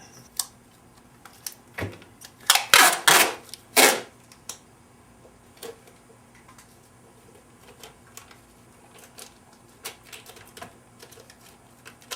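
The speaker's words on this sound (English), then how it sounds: "So now I'm going to take a little bit of tape here." A strip of tape is pulled and torn off a roll during work on a 1990 Ford F150 302 engine rebuild, a short burst of loud ripping near the microphone, followed by scattered small clicks and handling noises.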